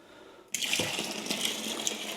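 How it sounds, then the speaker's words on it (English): Boiling water pours into a homebrew bucket in one continuous close gush that starts abruptly after a moment of quiet and keeps splashing steadily to the end. "That's 2 litres of boiling water."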